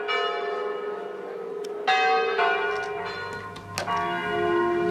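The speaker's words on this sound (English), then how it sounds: "Oh my god, you see the bell moving." A church bell in Venice rings out with several resonant strikes, each ringing tone sustaining and fading into the next.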